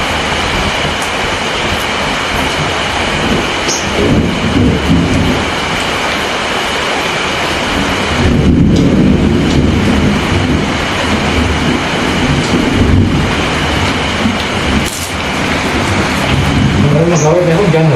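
Heavy rain roars steadily outdoors with low rumbles of thunder rolling through it. The downpour is loud and continuous, and voices talk intermittently beneath the noise.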